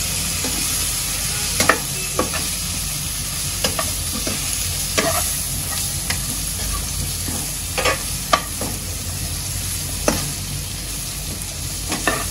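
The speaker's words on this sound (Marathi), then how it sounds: "सर्व मसाला सुरणला चांगला एकत्र करून घेते मसाल्याबरोबर." Suran (elephant foot yam) frying with spices in a pan as it is stirred, a steady close sizzle under repeated scraping and clinking strokes of the spoon against the pan.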